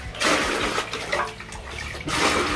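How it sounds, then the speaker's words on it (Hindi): Water pours into a tub with detergent powder to soak clothes, a loud, steady splashing gush that surges at the start and again near the end. "इसमें पानी डाल देते हैं सर्फ डाल के और भिगो देते हैं फटाफट से"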